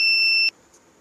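A buzzer on a railway bridge water-level alarm science project sounds one steady, high electronic tone for about half a second, then cuts off into near silence.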